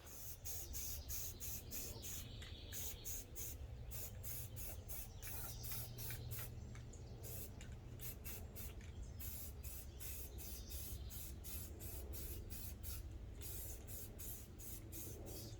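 Spray paint hisses in rapid short bursts while a second coat goes onto a dash piece from a 1974 Ford F100, quiet and close, with a steady background rumble.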